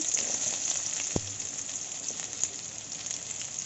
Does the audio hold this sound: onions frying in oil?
yes